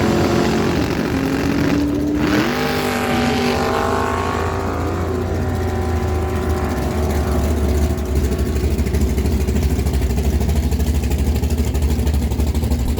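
Drag race cars launching at Miramichi Dragway on NHRA day, including an 84 Chevy Camaro, loud engines climbing in pitch with a sharp rising sweep early on, then a sustained roar as the cars run down the strip.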